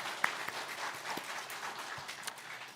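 Faint, scattered applause from a church congregation during a sermon, soft, uneven claps spread across a quiet room with no one speaking.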